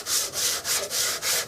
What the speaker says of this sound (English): I'll change and sand this direction a while